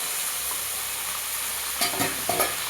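Spice paste frying and being stirred in a pan for a Bengali rui fish curry with elephant foot yam and potato, a steady sizzle broken near the end by a few clattering scrapes of the spoon.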